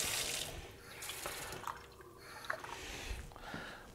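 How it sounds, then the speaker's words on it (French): Cold water poured into a bowl of gelatin powder in a kitchen, a steady soft splashing and trickling stream lasting several seconds, fairly faint. "on commence par mettre la poudre de gélatine et on rajoute un peu d'eau froide dans notre bol."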